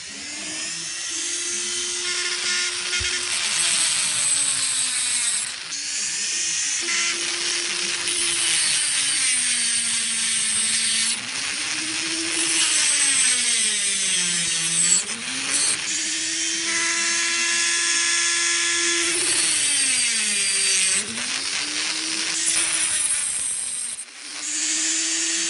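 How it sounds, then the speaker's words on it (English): A rotary grinder whines continuously at close range, its pitch dipping and recovering under load as it grinds down the pins of a Buck 110 folding knife being taken apart. "I have to grind them shorter to get them out"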